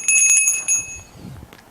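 A bright bicycle-style bell rings twice in quick succession, its clear metallic tone sustaining briefly before fading over a low background rumble.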